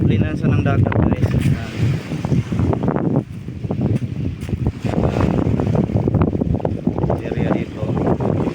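Strong wind buffets the microphone by the sea near a large house with solar panels, a loud continuous rumbling gust noise throughout, with a voice talking over it.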